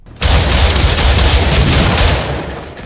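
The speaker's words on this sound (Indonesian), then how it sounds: "Yuki tidak peduli dan tetap nekat untuk menembak Shibata meskipun dia dihalang-halangi oleh Haba dan juga yang lainnya." Gunfire from an action film erupts as a loud, dense burst of overlapping shots that holds for a couple of seconds before tapering off, with no voices.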